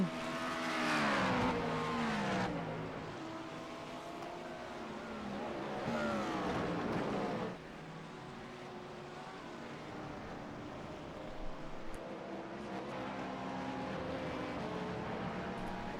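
LMP2 prototype race car engines in an IMSA racing game, a high revving whine climbing and dropping through gear changes, with other cars droning nearby and a steady engine note continuing underneath.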